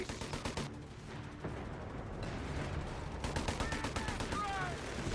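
Artillery battery and gunfire in the World War II strategy game Company of Heroes 3, with dense rapid rattling shots and booming blasts over a low rumble, plus brief voice snippets.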